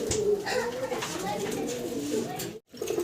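Male and female pigeons coo in soft, repeated throaty calls, close by, with someone talking intermittently over them.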